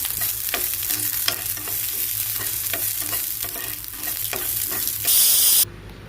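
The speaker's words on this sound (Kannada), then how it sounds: "ಅದನ್ನು ಒಂದು ಸ್ವಲ್ಪ ಎಣ್ಣೆಯಾಗ ಫ್ರೈ ಮಾಡ್ಕೊಂಡ್ಬರೋಣ್ರಿ" Spices sizzle and crackle in hot oil for horse gram sambar, stirred with repeated scraping strokes, then a brief louder hiss near the end.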